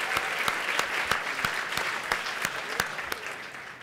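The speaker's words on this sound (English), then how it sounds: "You should clap for them." Applause from the audience at the 2015 Writers Guild Awards ceremony in New York, a dense clapping wash with distinct sharp claps standing out, fading slightly toward the end.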